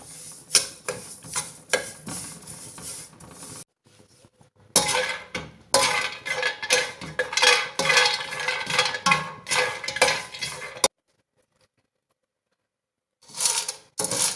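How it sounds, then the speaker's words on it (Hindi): Sesame seeds dry-roasted in a pan with no oil or ghee, giving busy rattling and scraping as a utensil stirs them against the metal, broken by short pauses and one stretch of silence. "सबसे पहले हम तिल को रोस्ट करते हैं इसमें मैंने ऑयल या इसमें देसी घी नहीं यूज़ किया"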